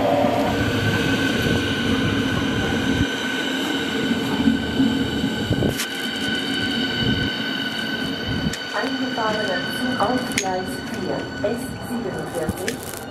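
A Berlin S-Bahn class 484 electric train running on the S47 line, heard from on board as steady rolling rumble with a sustained whine and occasional wheel squeal and clatter, continuous throughout.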